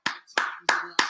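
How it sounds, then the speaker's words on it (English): Hands clapping four times at an even pace, sharp and close, during a watch-along of a Burnley versus Manchester United football match. "I'm clapping, you see? I'm clapping."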